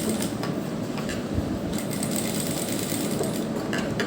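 A sewing machine runs steadily and continuously, stitching a bias piping strip onto a sleeve cuff, its close mechanical whirr filling the space without pause.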